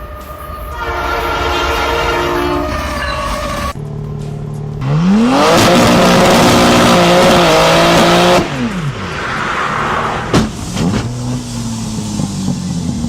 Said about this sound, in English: The train approaches and the bears move just in time.